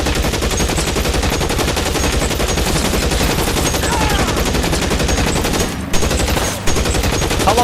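Sustained gunfire from a shootout in the video game L.A. Noire, loud and dense throughout, with rapid bursts layered over game background noise and two brief dips near the end.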